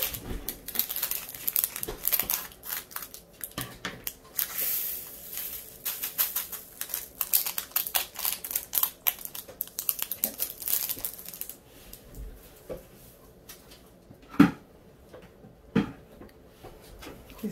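A plastic bag of green diamond painting rhinestones being opened and handled, a close run of crinkling and rustling with small clicks and rattles, busier at first and then sparser with a few sharper taps, no talking.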